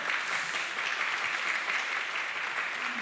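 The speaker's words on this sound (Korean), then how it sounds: "우리 박수로 환영하시겠습니다" A church congregation claps together in welcome at a Sunday service, a dense, steady patter of many hands filling the room for a few seconds, moderately distant and alone without talk.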